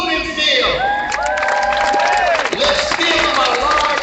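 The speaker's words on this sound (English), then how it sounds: "Let's give him a large round of applause." A crowd at an inauguration ceremony in Los Angeles cheers and whoops loudly and continuously, with shouts and scattered claps blending into a dense, sustained roar.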